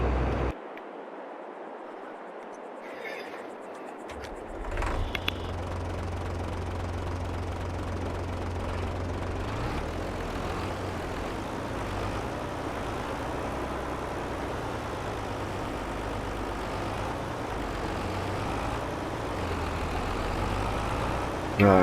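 A tractor engine in a farming video game starts up after a short silence, then settles into a steady low rumbling drone that continues to the end, with no talk.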